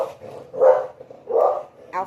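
Dogs barking at home, two loud close barks spaced about a second apart, followed by a shorter higher yelp.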